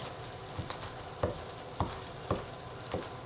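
Bacon frying in a kitchen pan, a soft continuous sizzle with regular sharp knocks of a knife chopping onion about every half second, fairly close and without talk.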